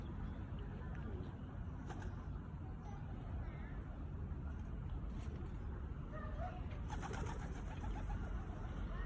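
Pigeons coo softly at a distance amid steady low outdoor rumble, with a few faint bird calls and light background noise throughout.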